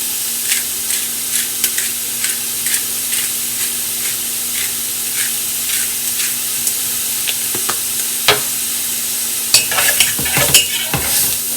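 Italian sausage sizzling in an oiled pan, a loud steady frying hiss with repeated scraping stirs and clacks from a utensil, growing busier toward the end.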